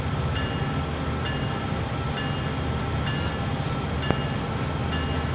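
A train in Train Sim World 3 runs at high speed along the track, giving a steady, loud, continuous rumble and rolling roar with faint clicks of the rails throughout.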